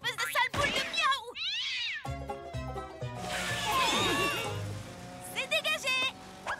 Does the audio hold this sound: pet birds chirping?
no